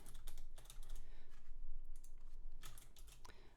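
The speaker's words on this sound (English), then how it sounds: "now if I type it out" Computer keyboard typing comes in soft, quick bursts of close key clicks, quiet and separated by brief pauses, with no talking.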